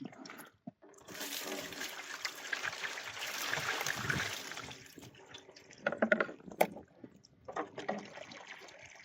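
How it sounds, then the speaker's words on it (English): Water rushes and splashes through a new gold mining highbanker during its first test, a loud close flow that eases off, followed by clattering drips and knocks. "I'm just going to put a little water through here to"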